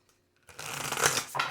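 A Moonology oracle card deck is shuffled, a short soft riffle of cards that starts after a brief quiet moment and rustles on close by.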